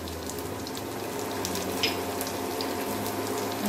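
Green chillies and orange peel fry in a pan, giving a steady, soft sizzling hiss throughout with no talking.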